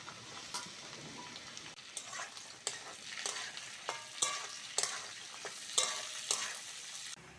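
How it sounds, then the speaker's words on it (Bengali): Vegetables with long beans are stir-fried with sauces in a kadai, with a quiet steady sizzle broken by a run of sharp scraping and clinking strokes from a spatula at irregular intervals, and no talking. "সবজিগুলো সব ভাজা হয়ে গেছে"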